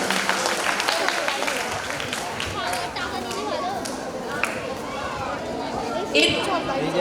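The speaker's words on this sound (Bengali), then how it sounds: "তো আরও একবার একটু জোরে করতালি হয়ে যাক সকলের জন্য।" Audience clapping at a cultural event held at Taki Sanskriti Mancha, a dense, steady patter of many hands that lasts throughout, mixed with crowd chatter and voices.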